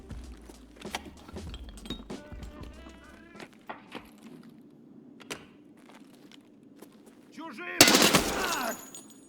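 Gunfire in Escape from Tarkov PvE on the Labs map: scattered shots, clinks and footsteps end in a loud burst of fire near the end. Game voices can be heard in the background.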